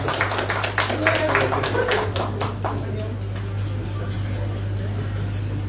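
An audience claps for a speaker at a Russia Day event in Mali, a burst of scattered hand claps that thins out after a couple of seconds, over a steady low electrical hum.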